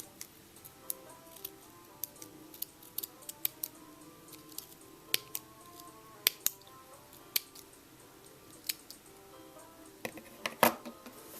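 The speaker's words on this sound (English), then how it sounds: "just cut it like you cut hair" Sharp scissor snips cut loose ends of crochet yarn on a boy's sock monkey beanie, a steady run of quick close crisp clicks spaced about every half second, with a louder cluster near the end.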